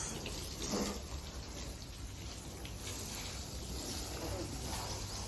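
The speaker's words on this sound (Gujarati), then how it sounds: "જો ગાડી સાફ થઈ રહી છે" Steady wash of running water splashing and hissing, constant throughout at a moderate distance, like a hose spraying a car.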